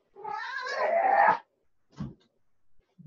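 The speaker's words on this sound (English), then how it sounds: "Old cat." An old cat lets out one long, drawn-out wavering meow, close and clear, followed by a few brief soft sounds after a pause.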